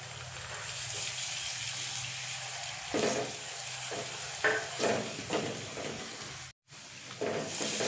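Garlic and ginger paste frying with onion for chicken korma, a steady oily sizzle with intermittent spatula scrapes and stirring strokes growing busier in the second half, a momentary dropout near the end, no talk.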